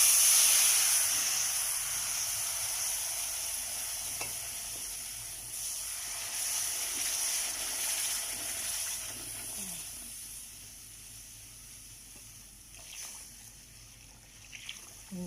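Water added a little at a time to hot frying semolina halwa (suji/rawa) in a pan, giving a broad steady hiss and sizzle that is loudest at first and slowly fades, with faint stirring clinks and no talk.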